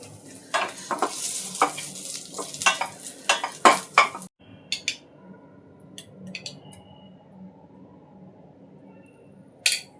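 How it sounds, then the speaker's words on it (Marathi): Cashews and almonds sizzle in ghee in a pan for dry fruit ladoo, stirred with a spoon in repeated clinks and scrapes before the pan quiets to a soft hiss with a few scattered taps. "काजू बदाम पण एकत्र करून तुपामध्ये परतून घेतो"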